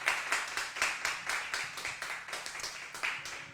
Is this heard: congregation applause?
yes